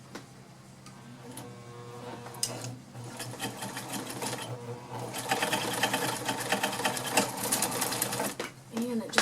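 A vintage White model 533 sewing machine runs steadily for several seconds with a rhythmic mechanical whir, building in intensity toward the end, while a person talks over it.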